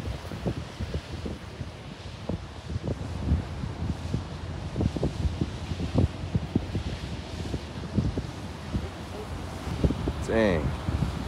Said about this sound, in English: it's a little windy, but wind is good when it comes to these kind of videos.